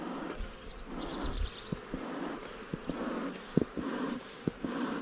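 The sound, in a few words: angry bees flying out of a hive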